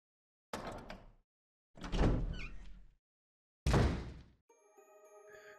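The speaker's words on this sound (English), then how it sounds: "Unlock this door." In Resident Evil HD Remaster, a mansion door is unlocked and swung open: three heavy, booming thuds and creaks in sequence, then a soft ringing game tone.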